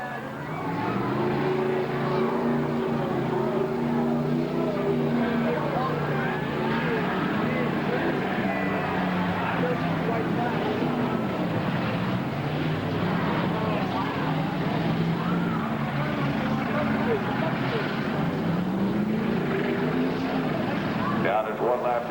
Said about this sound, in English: These cars just won't go any faster.